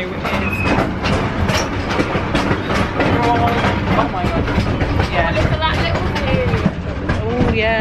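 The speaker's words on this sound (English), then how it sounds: "we're on the train trip." Riding aboard a small sightseeing train at a seaside holiday attraction, the wheels clatter and rumble steadily with occasional faint squeals, close and continuous, while people chat over the noise.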